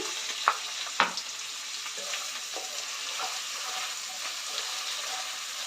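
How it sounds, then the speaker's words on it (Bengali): Onions frying in a pan, an even soft sizzle with a few sharp spatula taps and scrapes near the start, close and unaccompanied by talk. "পেঁয়াজটা একটু লাল লাল করে ভেজে নেবো"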